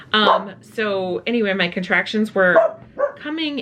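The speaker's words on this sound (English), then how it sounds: "Sorry if you hear our dog barking. I think we're getting a delivery of some sorts" A pet dog barks at a delivery arriving at a home, the yelps mixed under a steady stream of close indoor speech.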